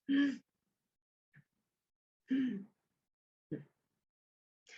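Short, quick breaths drawn high in the chest, shallow and tight, as several separate audible inhalations and exhalations spaced about a second apart, close and fairly soft, with no talking.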